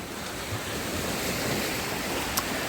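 Steady roar of Black Sea surf washing onto a beach in Odesa, with whitecaps, a broad rushing wash with some wind across the microphone, no voices.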